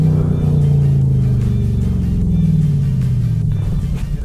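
An original Chevrolet Camaro convertible is driven hard on a race track, its engine revving loud and close in a continuous deep rumble that rises and falls slightly, with no talk over it.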